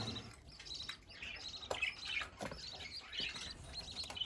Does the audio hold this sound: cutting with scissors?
no